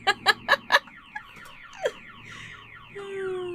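Car alarm blaring four sharp, evenly spaced whooping blasts, then breaking into scattered chirps and a falling, sliding siren tone that trails off, heard at moderate distance.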